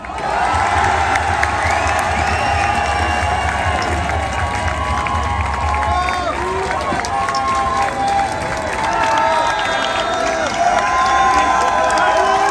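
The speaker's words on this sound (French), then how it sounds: "je vais maintenant vous demander un tonnerre d'applaudissements pour le coordinateur de la France Insoumise, député de Marseille, Manuel Bompard." A large crowd at an outdoor political rally in Paris cheers, whoops and applauds loudly for a politician taking the stage, a sustained roar of many voices and clapping with scattered shouts.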